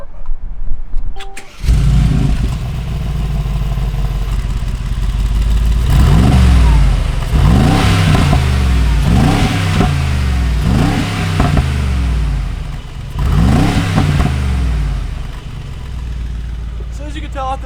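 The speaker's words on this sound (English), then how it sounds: "I'm gonna have to put it in sport mode to get the nice sound out of the exhaust" Mercedes-Benz G63 AMG in sport mode, its exhaust revving hard in a series of repeated rising blips over a steady loud idle, close and prominent throughout with no talk over it.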